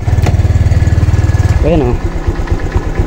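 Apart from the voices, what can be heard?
Honda Click 125 V3 motorcycle engine starting and idling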